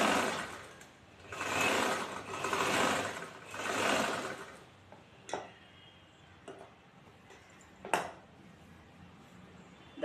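Sewing machine stitching chudithar fabric near the shoulder seam, three rhythmic whirring bursts of the needle running, then stopping, followed by a few sharp clicks and taps as the cloth is handled.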